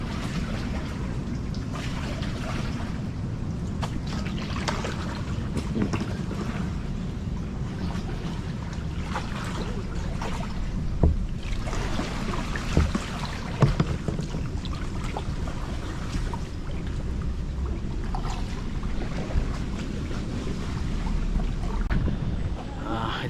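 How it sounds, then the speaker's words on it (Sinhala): Kayak paddling on open water, with a steady rush of water and wind buffeting the microphone throughout and a few knocks and splashes near the middle; no voices. "ඉතින් දැන් අපි අපේ කයක් රයිඩ් එකේ අන්තිම කාල සීමාවේ තමයි ඉන්නේ."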